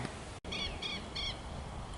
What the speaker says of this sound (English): Those birds are so noisy.